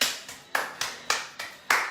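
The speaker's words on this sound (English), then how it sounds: "Give yourselves a round of applause." A group applauds together after finishing an exercise workout, the clapping arriving in a quick series of about seven sharp, evenly spaced bursts, fairly close and with no talking.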